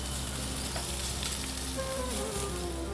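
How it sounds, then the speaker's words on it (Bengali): A paste of ground peanut, coriander and green chilli fries with cumin in a pan, giving a steady close sizzle while a utensil stirs through it, with a few faint scraping clicks and no talk. "অল্প একটু নেড়ে চেড়ে নিলাম।"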